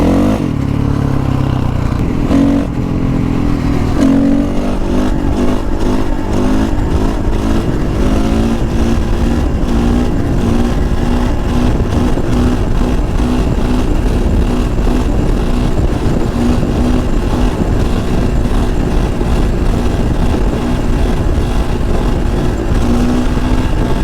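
A Honda CRF450R dirt bike engine runs loud and close throughout, revving and pulling through gears during a ride in a lot, with a steady rough drone and rising and falling pitch.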